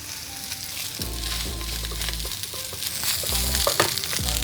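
Cooked rice stir-fried in a hot pan with egg for pale Japanese-style fried rice, giving a loud continuous sizzle with scraping and tossing bursts throughout, no voices.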